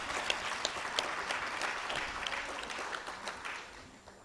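Shareholders clap together at an annual general meeting, a dense, steady patter of many hands that fills the room and slowly thins toward the end.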